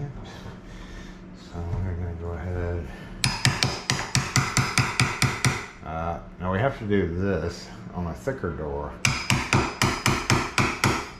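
Rapid bursts of sharp hammer blows striking a chisel on a wooden door, mortising for a lock, close by, with a person talking between the series of strikes.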